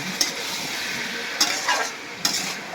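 Bottle gourd being sautéed in a pan for a taki fish dish, a soft steady sizzle with a few sharp scraping stirs of a spatula spaced through it, close and without talk.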